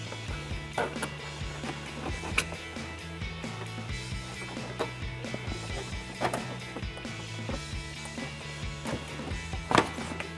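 Plastic retaining clips are pried off the inner fender liner of a Ford Bronco with a clip remover tool, giving a few sharp pops and clicks spaced out over a steady low workshop hum.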